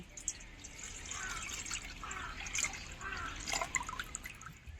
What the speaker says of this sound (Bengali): আমপানাটা হয়ে গেছে এখন ঢেলে রাখবো